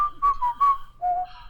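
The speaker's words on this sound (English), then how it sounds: "So I went down here and I whistled." A person whistles a short melody in B minor, four clear sustained notes in quick succession, close and alone with no other sound.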